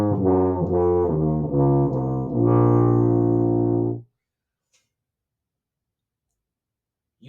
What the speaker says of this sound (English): If you were to do a minor scale, it would sound like this.